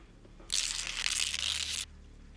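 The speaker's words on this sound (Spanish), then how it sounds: "Eran como garras arañando el ventanal" Claws scrape across a large glass window. One harsh, continuous, gritty scratch lasts just over a second, is loud and close, and has nothing else under it.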